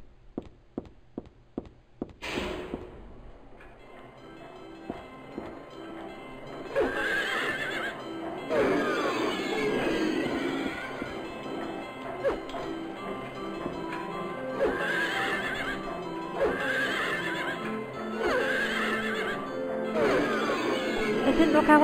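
Carousel horse neighing in the video game Silent Hill 3: a few sharp taps, then a loud, eerie whinny followed by repeated neighs and clip-clop sounds, with a voice speaking in between.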